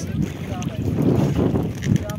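Strong wind blowing beside the Brahmaputra river at Dhalpur, rumbling and buffeting the microphone in uneven gusts, with light rain falling.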